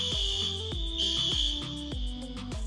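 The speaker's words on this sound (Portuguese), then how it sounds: "E o alarme de incêndio tá disparando." A fire alarm sounding indoors at a Disney work housing site, loud repeating electronic beeps over a shrill sustained high tone, with a regular pulsing rhythm and no talk.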